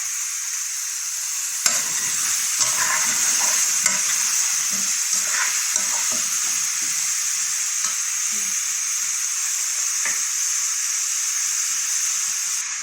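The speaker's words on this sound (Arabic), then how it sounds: "وانزل بقى بالكوسة بسم الله." Sliced zucchini hits a hot pan with garlic and fries with a steady, bright sizzle, broken by occasional clinks and scrapes of stirring, close and continuous for the whole stretch.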